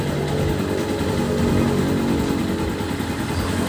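A Skygo Earl 150 motorcycle engine idles steadily and close up, a continuous mid-pitched rumble with an even, unbroken drone and no voices over it.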